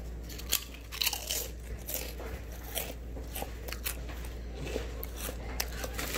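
Lay's cheddar jalapeño potato chips crunched up close, with a steady run of crisp, brittle bites and chewing crackles over about six seconds, and no voices.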